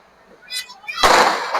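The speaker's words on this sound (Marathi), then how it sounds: "हे मागे फटाके चालू" A loud sharp burst of crackling firecracker pops erupts midway during Diwali, preceded by fainter pops, with a crowd's voices murmuring in the background.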